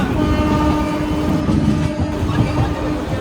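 The Kaziranga Express rumbles into Rampurhat Junction station, a steady close roar of wheels and cars with a faint horn note riding over it.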